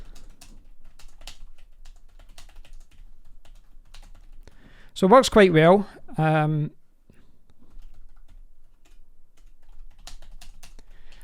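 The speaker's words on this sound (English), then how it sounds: "you probably won't be able to see what I'm actually typing" Soft keyboard clicks tap away at an uneven pace on a Logitech K780 wireless keyboard, close and quiet, with a short spoken remark in the middle.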